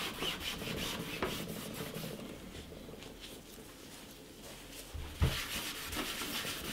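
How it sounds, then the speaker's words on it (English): A cloth rubs polish into the plastic case of a Commodore C16 computer in a continuous soft, close scrubbing that runs steadily throughout, with one slightly louder knock near the end. "you rub that in, and then you take a dry piece of cloth after a while and kind of remove the residue that comes from the polish"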